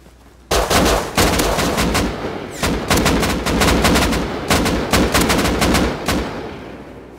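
Loud, sustained gunfire in the survival game Rust, repeated bursts of rapid shots with short gaps over several seconds, close and dominant, with no talking.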